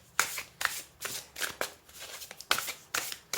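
Tarot cards being shuffled and handled to draw a card, giving a run of crisp, papery riffling bursts in an uneven rhythm, close up with no voices.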